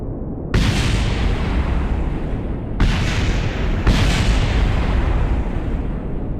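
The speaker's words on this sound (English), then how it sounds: "Lots of explosions" Several loud video game explosions in Kerbal Space Program boom in sequence, one at the start and two more a few seconds later, each rumbling on into the next without speech.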